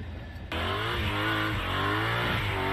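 A car engine revs hard and steadily during a burnout as the rear wheels spin, a loud sustained roar that surges in after a brief quieter start.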